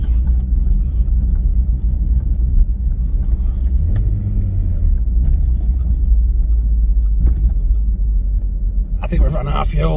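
A Citroen ZX car engine running out of fuel gives a steady low rumble and shaky idle inside the cabin, while someone talks over the noise.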